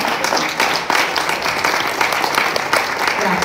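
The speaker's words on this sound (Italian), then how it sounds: "Applauso." An indoor audience at a book talk and signing breaks into steady applause, a dense, even wash of clapping from many hands that holds for a few seconds at close range.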